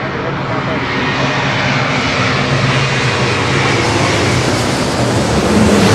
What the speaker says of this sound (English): This is Asiana Airlines 204 coming in from Seoul on the A350-900.